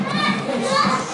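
Children's voices chatter and call out in a lively, steady jumble, close by, like kids at play.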